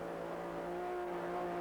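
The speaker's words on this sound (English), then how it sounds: "So they're really flooring it as these cars get a bit lighter." Modified saloon racing cars at Kyalami in 1986, engines at full throttle, heard as a steady high droning whine with a sustained pitch, somewhat distant and even in loudness.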